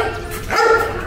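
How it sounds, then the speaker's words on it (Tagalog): A pug and beagle crossbreed dog gives a short, close, loud bark that rises out of a brief stretch of household background noise. "ang dami nilang aso. Puro crossbreed daw ng pug at shih tzu. Ay, pug at beagle."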